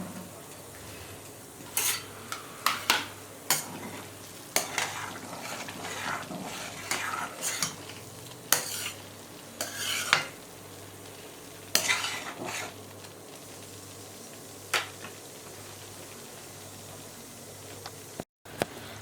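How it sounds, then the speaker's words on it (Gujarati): Homemade ghee cooks down from cream in a heavy-bottomed kadai while a metal spoon stirs it. Repeated scraping clacks ride over a soft, continuous sizzle, close by and without voices. "હવે અહીંયા આપણે જોઈએ તો એકદમ સરસ રીતે ઘી આપણું છૂટું પડી ગયું છે"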